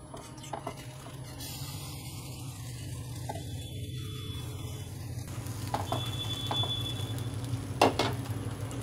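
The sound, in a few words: stirring ground rice flour into boiling water with spoon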